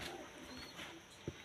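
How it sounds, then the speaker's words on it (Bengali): Imported Teddy pigeons coo faintly in a loft, with soft repeated low calls and a brief thump near the end. "এখানে আমার ডাইরেক্ট ইম্পোর্টেড টেডি কবুতর"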